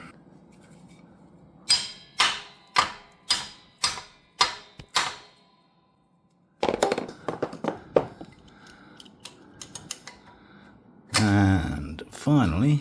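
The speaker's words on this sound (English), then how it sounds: "Split pin and smack it out with a hammer." Six sharp metallic hammer strikes ring out in a steady rhythm, knocking out a split pin on a Honda CB350, followed after a pause by a flurry of quicker, irregular knocks and some rustling.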